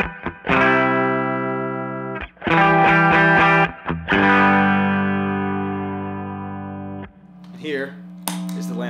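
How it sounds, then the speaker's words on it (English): Clean, unaffected electric guitar from a 1967 Fender Mustang played through an Ampeg Gemini amp, strummed chords ringing out loud and close, with a brief quieter noodle of notes at the end. "Here is the unaffected sound through a 1967 Fender Mustang into an Ampeg"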